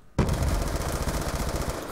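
Gunfire in the PC version of Black Ops 2 bursts in suddenly and rattles on as rapid automatic fire, loud and close, continuous to the end with no voices.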